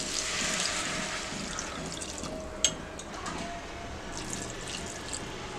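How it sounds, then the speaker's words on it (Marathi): Water poured into a pot of masale bhaat, rice cooked with spices, a soft continuous splashing trickle at low level with one brief clink partway through. "पाणी घालूया."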